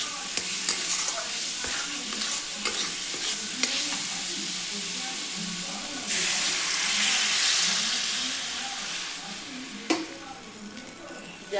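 Spices frying in oil in a pan for a pabda fish curry give a steady close sizzle with stirring scrapes, then surge into a louder, brighter hiss when water is poured in partway through.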